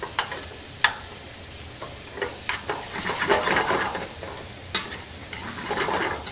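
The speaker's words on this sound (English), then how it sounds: "we're gonna work the cheese into the asparagus here" Gorgonzola cheese is worked into soft asparagus in a pan with the heat just turned off: steady scraping and stirring with a soft sizzle and hiss, a few sharp utensil knocks against the pan, and no talking.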